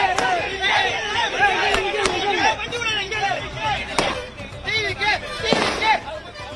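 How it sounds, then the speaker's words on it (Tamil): Party volunteers of TVK chant slogans to welcome a campaign vehicle at the Vikravandi toll plaza in Tamil Nadu: a loud, dense crowd shouting in rhythmic bursts, punctuated by sharp cracks like firecrackers. "விக்கிரவாண்டி சுங்கச்சாவடியில் வாகனத்திற்கு வரவேற்பு அளித்து தொண்டர்கள் முழக்கத்தை எழுப்பி வருகிறார்கள்"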